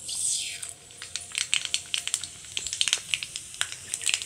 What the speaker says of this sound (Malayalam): ചൂടായ വെളിച്ചെണ്ണയിലേക്ക് നമുക്ക് ഓരോന്ന് ആഡ് ചെയ്ത് കൊടുക്കാം